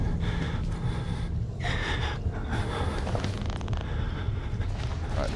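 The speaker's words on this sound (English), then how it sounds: "Just stop breathing so much, bro." A frightened player character in the video game Outlast breathes heavily in shaky gasps and whimpers, close and ragged, over a dark ambient background.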